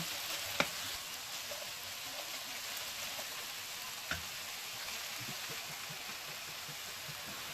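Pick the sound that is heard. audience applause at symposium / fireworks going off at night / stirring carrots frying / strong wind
stirring carrots frying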